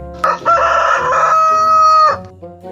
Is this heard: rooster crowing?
yes